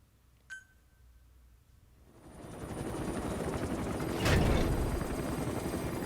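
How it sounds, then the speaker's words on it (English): A helicopter from Metal Gear Solid V: The Phantom Pain flies in a game scene, its steady rotor roar building up and holding loud after a quiet start with a brief beep. "The chopper can only go so fast."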